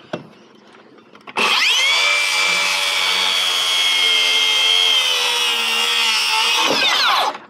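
A power saw bites into a wooden rafter for an eyebrow roof, spinning up after a quiet start into one loud, steady cutting whine that holds for about five seconds before winding down.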